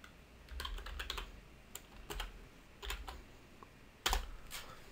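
Typing a console command on a computer keyboard, several quick bursts of clicking keystrokes with short pauses between, close and fairly quiet, ending in a sharper key press.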